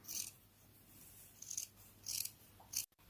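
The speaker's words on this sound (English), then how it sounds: "just take your scissors and cut those out" Scissors cut circles out of craft material for homemade coasters, making four close, crisp snipping bursts spaced about half a second apart against a quiet background.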